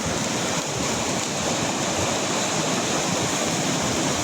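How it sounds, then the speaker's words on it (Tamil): Floodwater from a rain-swollen seasonal stream rushes over the low Arayapalayam causeway, a steady, dense roar of churning water that fills the whole clip without pause and with no voices. "தள்ளிக்கா தண்ணி வருது"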